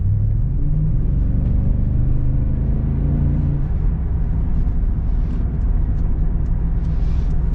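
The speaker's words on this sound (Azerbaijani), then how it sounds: "Yəqin ki, videoda V8 mühərrikin səsini də eşidirsiniz." A BMW X5 E53 with a V8 engine accelerates, a loud deep rumbling drone with a rising engine tone heard from inside the car, no talking.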